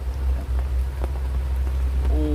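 Steady rain falls outdoors at a fishing spot, a dense continuous hiss with scattered drop patters and a low rumble underneath, constant and fairly loud throughout.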